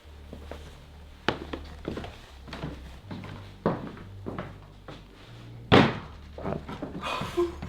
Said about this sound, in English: the door closing's normal, right?